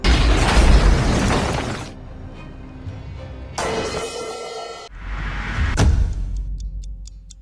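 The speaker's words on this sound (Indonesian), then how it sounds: "seorang prajurit yang nyaris terkena ledakan bom" Loud bomb blasts and crashing debris in quick succession in a war film battle at Brest Fortress, with booming low rumbles, cut between sharper bursts and a faint ticking at the end.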